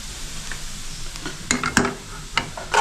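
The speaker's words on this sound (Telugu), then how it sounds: "తప్పనిసరిగా కలుపుతూ ఉండాలి" Cardamom frying in ghee for carrot halwa, a low steady sizzle under a few sharp scrapes and clinks of a stirring spoon on the pan, loudest near the middle and end; no one speaks.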